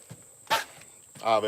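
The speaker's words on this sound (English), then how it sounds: "This is by far the closest to these barking dogs I've ever" Dogs barking from across a river, heard from the inside bend while bait fishing: a few distant, short bark bursts spaced apart, faint against quiet outdoor background.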